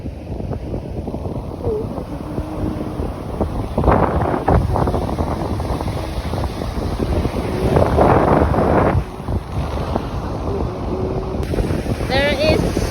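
Cold wind gusts steadily across a microphone at an Australian beach near sunset, a continuous rough rumble with faint surf beneath and brief voices in the background.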